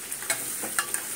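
Marinated chicken frying in a pan for lemon chicken, a soft steady sizzle with a few light crackles and stirring scrapes, no talk.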